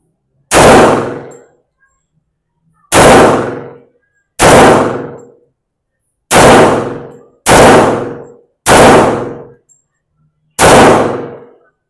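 Seven loud, sharp gunshots from a Springfield Armory 1911 .45 pistol, one of them a TRP Operator model, spaced a second or two apart, each a hard crack with a brief ringing decay and no talk between them.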